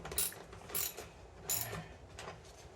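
A ratcheting wrench tightens a bolt on a HiBoy S2 Pro electric scooter seat mod. Three or four quiet bursts of clicking come at a steady rhythm, close by, with no talk.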